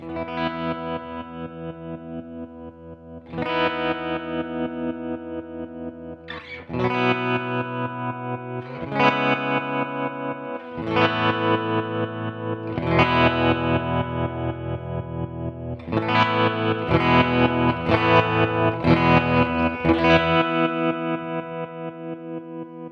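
Electric guitar chords ring out through a Flux Tremolo pedal with a rhythmically pulsing, wavering volume, each chord held a couple of seconds before the next; no voices.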